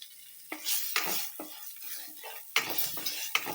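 Chana dal, urad dal and peanuts frying in a pan, a steady sizzle with repeated scraping stirs from a spoon against the metal, close and moderately loud, no talking.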